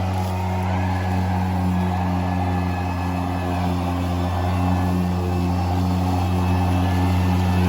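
An older-generation Ego electric lawn mower pushes through clumpy, shaded yard grass, giving a loud, steady motor hum with a constant whine and a faint whooshing of cut grass, close by without pause.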